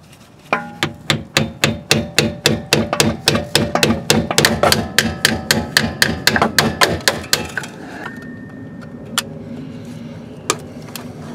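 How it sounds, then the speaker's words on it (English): Repeated sharp metallic blows of a hammer on a screwdriver knocking off a metal band during BMW rear wheel bearing work, a steady rhythm of about two dozen close knocks, then a few scattered taps after a pause. "I'm gonna take this metal band here off with a screwdriver and a hammer"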